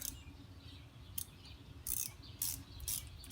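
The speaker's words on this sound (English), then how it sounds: "when you tighten them, I like to tighten them until they're snug" Ratchet snugging spark plugs on a 2010 Toyota Corolla S, a few short bursts of ratcheting clicks in a quiet space, the last three closer together.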